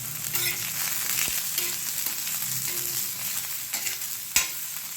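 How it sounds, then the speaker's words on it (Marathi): Onion fries in a little oil in a pan, giving a steady close sizzle with a few sharp clicks and scrapes of stirring, no voices. "थोडंसं तेल घालून आपण हे छान परतून घेणार आहोत."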